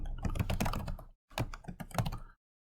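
Keys clatter rapidly on a computer keyboard in two close, dense bursts of typing separated by a brief pause, with no talking.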